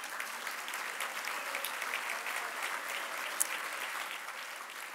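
A luncheon audience gives a round of applause at a mental health stigma event, a steady sustained wash of clapping from many hands at a moderate distance, with no talk over it.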